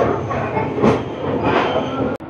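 Inside a Vistadome coach of the Shatabdi Express running from New Jalpaiguri to Howrah, a loud, steady rumble of wheels and carriage with rhythmic clatter and a brief sharp dropout near the end.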